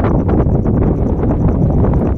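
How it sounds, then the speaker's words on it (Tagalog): Strong wind outside a temple in Mysore, India, buffeting the microphone in heavy rumbling gusts that pulse unevenly and loudly across the short stretch. "So sobrang lakas ng hangin dito."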